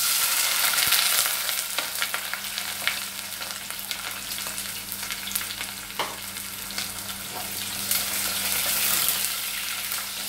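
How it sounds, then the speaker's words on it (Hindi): Sliced onions with kalonji seeds sauté in oil for a tomato curry, giving a steady close frying sizzle with scattered crackles and the scrape of stirring throughout, no talk. "प्याज को लाल नहीं करना है, बस इसको हल्का सा ऑयल में सौते करेंगे"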